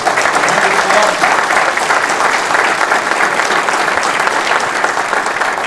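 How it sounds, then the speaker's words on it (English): An audience at an award of valor dinner applauds, a dense sustained round of clapping from a large crowd that stays steady and loud for several seconds without a break. "let's give everybody a round of applause for supporting"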